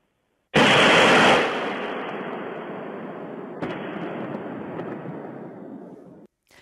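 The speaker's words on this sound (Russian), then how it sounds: "В телеграм-каналах появилось видео, на которых слышны звуки взрыва и видна яркая вспышка." An explosion from a drone attack on Moscow hits suddenly and loudly, then becomes a long roaring rumble with a second sharp crack partway through before cutting off abruptly.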